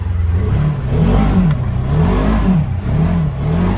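A 2021 Polaris Ranger 1000 XP Northstar Ultimate UTV driving in two-wheel drive, its engine droning loud and close with rising and falling revs as it accelerates and eases off.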